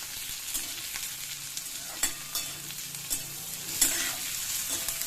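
Onions with green chillies, curry leaves and cumin sizzle steadily in a pan for a quick lunchbox rice, with a few sharp scrapes of a stirring spoon. Nobody speaks.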